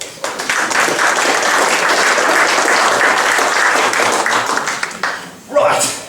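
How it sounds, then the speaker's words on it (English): An audience greets the new CEO with loud, sustained applause that holds for about five seconds, then drops away. A brief second burst of sound follows near the end. "Give her a huge round of applause."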